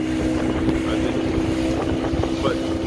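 An 18-foot motorboat with a 40-horsepower engine pushes through rough seas, its engine droning loud and steady under rushing wind and water noise, with some faint voices.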